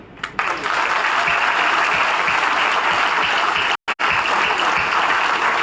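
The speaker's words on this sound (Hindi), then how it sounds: "पूरी ताकत से, बल्कि ज्यादा ताकत से उनके लिए ताली बजाना चाहिए" An audience at a party workers' meeting bursts into loud, dense, sustained applause that fills the whole stretch, broken only by a split-second cut near the end.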